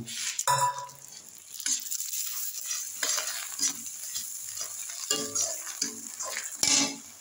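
Potatoes sizzle and fry in spiced masala while a spoon stirs and scrapes the pan, with clattering knocks over a continuous close frying hiss.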